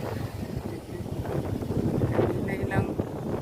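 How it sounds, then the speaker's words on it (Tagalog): A motorboat engine drones steadily on a boat ride toward Kabungaan in the Philippines, heavy wind buffeting the microphone, with faint voices underneath. "Oh ya, motor ay."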